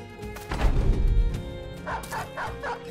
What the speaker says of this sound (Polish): Piesek goni.